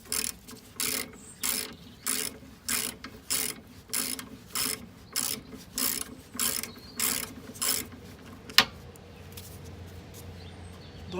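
Socket wrench ratcheting on a Mercedes B-Class brake caliper bolt, about a dozen regular clicking pulls close up, then a sharp knock and quiet.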